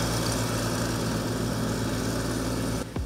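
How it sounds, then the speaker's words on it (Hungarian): Lawn mower cutting grass during an autumn city cleanup in Miskolc, a steady, loud droning engine with a constant low hum close by, cutting off abruptly at the end. "Fűnyírógéppel vágták a füvet"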